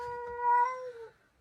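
A cat gives one drawn-out meow lasting about a second, clear and fairly loud, with nobody speaking over it.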